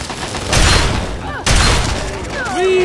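Heavy gunfire from big guns in the video game Fallout 3, two loud booming blasts with rumbling tails about a second apart, followed by whistling and electronic game effects.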